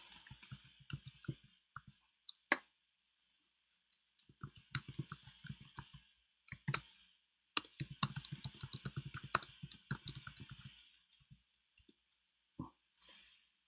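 Rapid keystrokes come in bursts with pauses between them, alongside sharp single mouse clicks. The sound is close and fairly quiet, with no talk.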